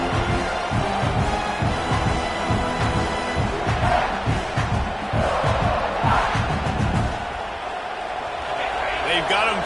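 Football stadium crowd during a college game between USF and South Carolina, a loud, continuous roar with rising swells of cheering and yelling throughout, opposing side pinned deep in its own end, with talk over it.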